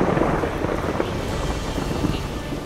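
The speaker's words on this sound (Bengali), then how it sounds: "হঠাৎ কান ফাটানো তীব্র মেঘের গর্জন শোনা গেল" A deep, rolling thunder rumble from a storm is used as a sound effect in a Bengali village horror tale. It is loud and continuous with a rain-like wash over it and no speech.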